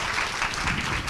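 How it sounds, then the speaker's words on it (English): Crowd applause after a talk on women's independent travel, a brief, dense and steady burst of many hands clapping at close range, with no talk over it. "a round of applause for everybody"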